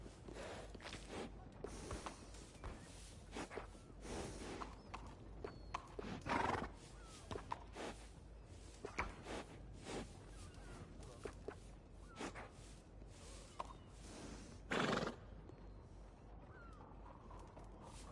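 In the video game Red Dead Redemption 2, horses whinny loudly a couple of times over steady clip-clopping hooves and scattered snorts, fairly close by.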